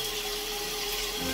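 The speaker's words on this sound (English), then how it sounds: "Rinse." A tap runs in a steady, close stream as an unbranded knurled-handle razor from Temu is rinsed under it, with a continuous watery rush and no talk.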